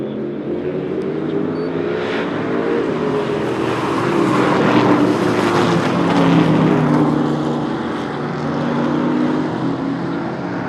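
Pontiac stock cars race on a super short track, their engines blending into a loud, steady, rough drone that swells and eases slightly as the pack passes close by.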